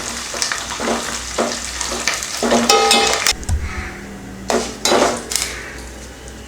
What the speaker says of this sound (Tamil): இப்போ கருவேப்பிலையை போட்டு வறுத்து எடுத்துக்கலாம்.